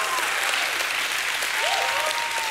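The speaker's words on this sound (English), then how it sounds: "Can anybody in the house give God another hand clap and a shout of praise?" A church congregation claps their hands in loud, dense, sustained applause, with voices calling out and cheering over the clapping throughout.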